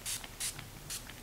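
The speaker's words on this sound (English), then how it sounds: "spray it a couple times." Setting spray misted onto the face in a foundation routine: three short, crisp pump hisses with brief gaps between them, close and fairly soft against a quiet room.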